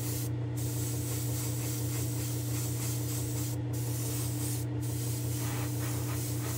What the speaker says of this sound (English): I'm going to go give this a little spray with some color